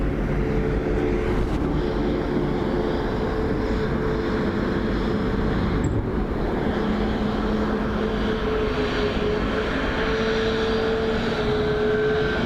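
Ryanair airliner landing on runway 28 left at Dublin Airport, a loud steady jet roar filling the whole stretch under a gusty crosswind.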